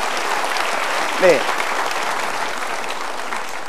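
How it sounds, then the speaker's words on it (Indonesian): An audience at a motivational talk show claps in steady, dense applause that fills the whole stretch, with a brief spoken word near the start. "kita berikan tepuk tangan"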